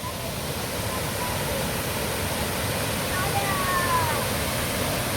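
Water falls down the Brahman Kada cliff near Ramapur village, making a steady, unbroken roar that fills the whole stretch at an even loudness.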